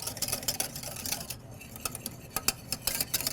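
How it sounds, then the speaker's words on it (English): Gelatin and butter being stirred in a pot on a stove turned to maximum power, with a steady run of scraping, clinking utensil-on-metal strokes close by and no talking. "Make sure I stir everywhere."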